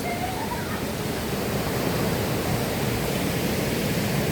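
Ambon Ambon Falls in Bagac, Bataan pours in a steady, dense roar that fills the scene from start to finish, loud and continuous, with no voices.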